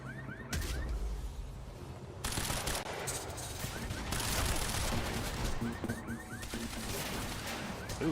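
Quantum Break game combat erupts with bursts of rapid gunfire, including sniper shots. Dense, loud volleys and crashes layer over each other almost continuously after a brief quieter opening.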